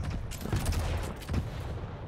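Lightning gun fire from Quake Champions in a competitive finals duel: a loud, dense, continuous crackling barrage with rapid stuttering bursts that runs the whole stretch without a break.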